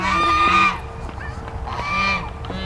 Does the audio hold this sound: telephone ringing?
no